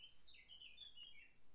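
Eurasian blackcap singing outside a window, a short bright warbling phrase of quick chirps, faint and somewhat distant.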